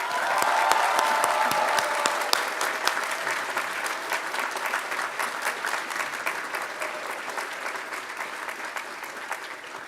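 Audience applause welcoming speaker Grant Sanderson at a class of 2024 commencement ceremony, steady dense clapping from a large crowd that holds loud for about ten seconds and tapers slightly near the end, with no voices over it.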